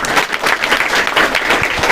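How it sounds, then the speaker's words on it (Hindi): An audience claps steadily to welcome a student called forward at a class-12 farewell and prize distribution. The dense, continuous applause fills the full two seconds with no pause. "ताली से स्वागत कीजिए"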